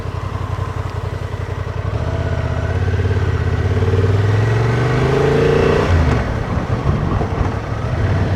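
Motorcycle ridden on a rough, potholed rural road in rain with traction control switched off, engine note rising and falling under engine braking, a loud close buzzing drone with gear-like pitch sweeps and some clatter.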